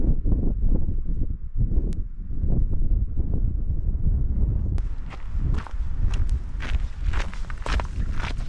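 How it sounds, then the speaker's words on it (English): Wind gusting hard through a cold, shaded fell gully above the treeline in Lapland, a close, rumbling roar mixed with crunching footsteps, with rougher hissing gusts in the latter half. "it was quite cold and the wind was blowing through quite hard"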